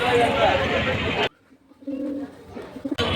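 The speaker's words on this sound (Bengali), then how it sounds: "বিভিন্ন স্থান থেকে পাইকাররা কবুতর নিয়ে এই হাটে আসেন" Pigeons at the Baligaon pigeon market in Munshiganj give low, soft cooing calls during a brief quiet stretch, between louder bursts of nearby crowd noise and voices.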